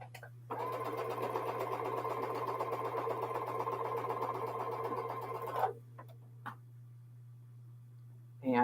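Sewing machine chain piecing quilt star blocks: a steady mechanical whir runs for about five seconds with an even hum beneath, then stops, followed by a few faint clicks and handling noises.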